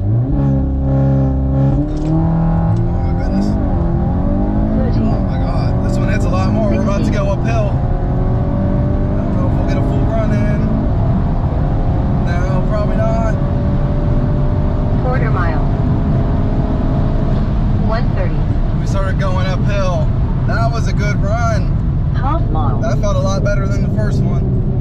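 VW Golf R MK8 with 034 Motorsport Stage 1 tune and Stage 2 transmission tune accelerating hard on a drag run, engine note climbing through repeated gear changes, loud and close, with occasional voices over it.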